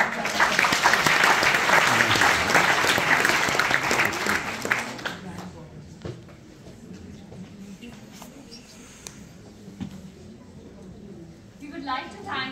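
An audience at the Jaipur Literature Festival claps loudly and steadily for several seconds, then the applause dies away into scattered claps and room noise.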